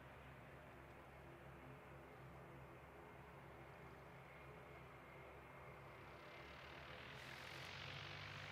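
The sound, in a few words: Air New Zealand airliner taking off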